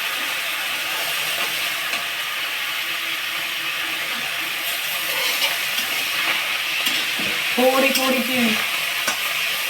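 Cowpea leaves cooking in a pan, a steady loud sizzle with scraping stirs and a burst of rattling clatter near the end.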